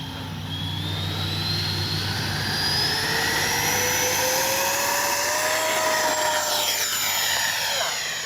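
A Freewing F/A-18C Blue Angel model jet with a 90mm electric ducted fan spooling up for takeoff, a loud rising whine that climbs steadily in pitch and then shifts as it passes by.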